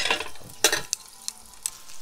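Beef meatballs made with oatmeal fry in a pan, a soft steady sizzle broken by a few sharp clicks of chopsticks or a utensil turning them, no voices.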